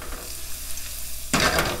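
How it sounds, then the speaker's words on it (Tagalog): Radish slices dropped into hot cooking oil for a squid adobo side dish, a sudden loud sizzle bursting in after a quiet stretch and continuing as a steady crackling fry. "pag mainit na yung mantika, iprito muna natin itong ating labanos"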